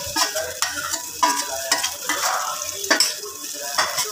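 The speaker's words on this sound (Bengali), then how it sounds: "এখন এটা অনবরত নাড়তে থাকবো।" Thick, cooked black gram dal (maskalai) is stirred continuously in a pot, with repeated close scraping strokes and soft bubbling sizzle in a steady rhythm.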